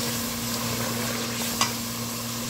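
Garam masala and turmeric frying in a pan give off a steady, close sizzle with a soft stirring scrape and one brief click near the end.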